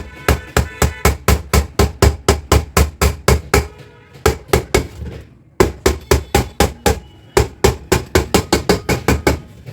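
A hammer bangs on a Hawkins pressure cooker lid in fast, loud, evenly spaced strokes, broken into bursts by brief pauses.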